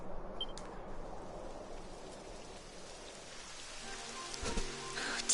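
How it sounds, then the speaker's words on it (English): Rain begins to fall in the video game Dragon Quest XI, a steady soft patter of raindrops on a surface that runs through the whole stretch, with a few brighter clicks and taps near the end. "It would have to go and start raining, wouldn't it?"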